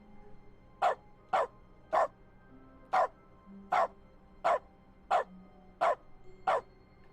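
A dog in The Stanley Parable: Ultra Deluxe barks nine times in short, evenly spaced single woofs, clear and moderately loud, with faint low tones between barks.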